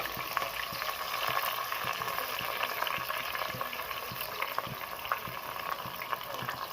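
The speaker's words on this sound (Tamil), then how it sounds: "போட்டதுக்கப்புறம் நம்மளோட இன்க்ரீடியன்ட்ஸ் வெங்காயம் பொரிஞ்சிச்சா, கருவேப்பிலை" Chopped onion and curry leaves fry in hot oil with cumin for a lentil rice dish, a continuous soft sizzle and crackle with occasional stirring taps, close and steady with no talking.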